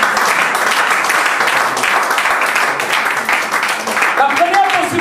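A church congregation applauds and cheers for Jesus: loud, continuous clapping mixed with shouting voices that fills the whole space and holds steady throughout.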